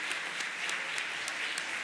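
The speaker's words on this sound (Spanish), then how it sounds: "Un aplauso grande para todos ellos." Audience at a medical congress applauds, a dense steady patter of many hands clapping at moderate distance throughout.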